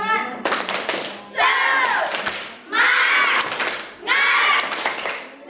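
A classroom of fourth-grade schoolchildren performing the tepuk semangat spirit clap chant, rhythmic bursts of group clapping alternating with loud chanted voices in four repeated phrases.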